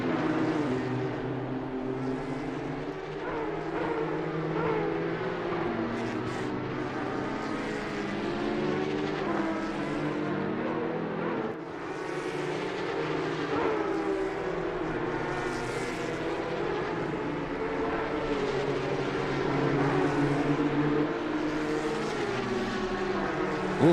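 In a racing video game, a Porsche and BMW race cars at Zandvoort roar steadily along the straight, their engines forming a continuous loud drone with shifting pitch and no speech.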